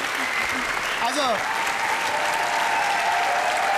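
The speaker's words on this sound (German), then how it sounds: "riesen Applaus nochmal für Oliver" A studio audience at a Christmas Schlag den Raab game show applauds loudly and steadily, with someone speaking briefly over the clapping.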